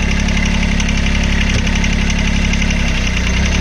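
The diesel engine repowering a Cushman Truckster utility vehicle runs in gear, a loud, close, steady knocking rumble with no break, and no voices over it.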